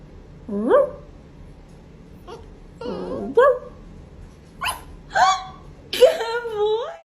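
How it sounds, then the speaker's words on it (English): A dog barks and yips in several separate bursts, close and loud, with whimpering tones between them over a low background hum. "Bark."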